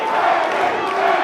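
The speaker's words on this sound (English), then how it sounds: "Crowd starting to get behind Henri now" Crowd at an Eternal MMA 50 fight roaring and shouting in a continuous loud wash of cheering for a brief moment.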